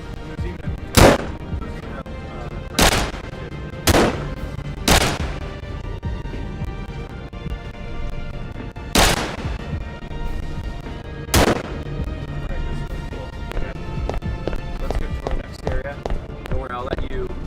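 Pistol shots from a video game ring out singly at irregular intervals, about six sharp, loud cracks spread over the stretch, separated by quieter game ambience and background music.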